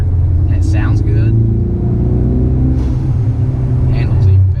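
A tuned 2018 Ford Mustang EcoBoost with a 10-speed automatic pulls hard under acceleration after a paddle downshift into fifth, giving a loud, steady low engine rumble heard from inside the cabin.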